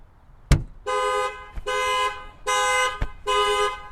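A Lexus GX460 alarm goes off after a light knock on the body sets off its shock sensor: a sharp thud, then four loud, close, buzzing horn blasts in an even rhythm, with another knock between them.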